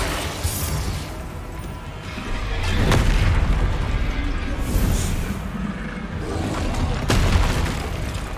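Fiery Confringo spell blasts in the Hogwarts Legacy video game, a continuous rumbling din with two sharp booming bursts standing out partway through and near the end, loud and close.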